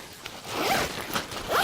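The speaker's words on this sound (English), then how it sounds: "We just zip it up, and these zippers are really smooth too." Zippers on backpack pouches glide shut in several quick, smooth pulls, close and clear with no talking.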